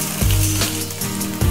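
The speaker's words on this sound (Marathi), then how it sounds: "आपण घेतलेले ओले वाटाणे टाकणार आहोत 1 वाटी। हे चांगले परतून घेणार आहोत।" Fresh green peas frying with chili and garlic in a pan, a close sizzle broken by a few scraping stirs, no talking over it.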